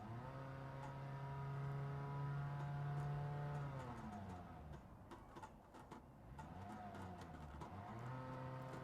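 A modded Toyota Prius engine in the Grand Theft Auto game drones with a steady buzzy tone that rises and holds, drops as the revs fall, then climbs again in a warbling rev; no talking.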